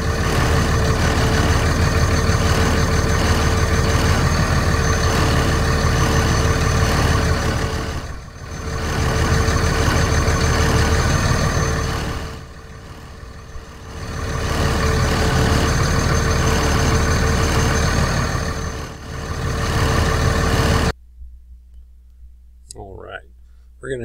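A CAT D6 dozer's diesel engine runs steadily throughout a cylinder cutoff test, loud and near, with a few brief dips in level before it cuts off near the end; a voice talks over the engine.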